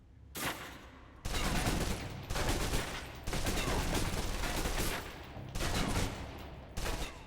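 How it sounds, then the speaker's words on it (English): Submachine gun fire in the stealth game Splinter Cell, emptying a clip in several long sustained bursts separated by short pauses, loud and close with dense crackling shots. "Now, let's move on to the submachine gun. Now let's empty the clip."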